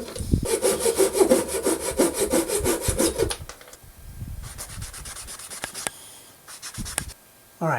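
A plastic toothbrush is sawn into small pieces for a soft swimbait boot tail: about three seconds of quick, rhythmic rasping strokes up close, then softer scraping and scattered handling taps.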